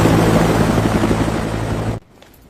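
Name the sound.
helicopter about to take off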